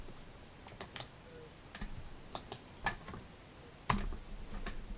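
Fingers type on a computer keyboard in sparse, irregular clicks, a few isolated keystrokes and one sharper tap, close and quiet against a faint hiss. No one talks.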